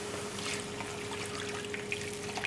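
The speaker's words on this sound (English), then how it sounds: "gonna add 2 cups of water" Water trickles and pours steadily into a cooking pot of tender, lightly golden onions for tomato sauce, a faint continuous stream under a low steady hum.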